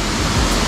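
At Kumarika waterfall near Dawki, rushing water pours down in a loud, dense, continuous roar that fills the scene up close, with no talking.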